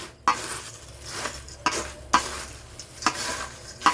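A spoon scrapes and stirs crispy tuna sambal around a hot pan, several distinct scraping strokes at irregular intervals over a low background sizzle, with no one talking.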